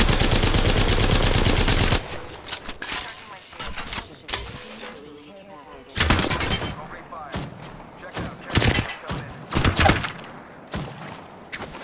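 Gunfire in the Apex Legends shooter game, with a rapid continuous burst of automatic fire followed by scattered sharp shots and impacts in irregular clusters, while a player talks over the action.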